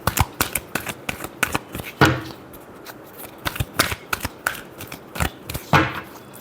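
Tarot cards are shuffled by hand, giving a crisp run of riffling snaps and clicks in uneven bursts, close to the microphone, with no talking.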